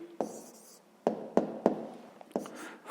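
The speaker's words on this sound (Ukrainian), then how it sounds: "записуємо зараз відповідь, пишемо відповідь" An answer to a fifth-grade maths exercise is written down by hand, several short close scratching strokes of pen on paper separated by brief pauses, with no talk.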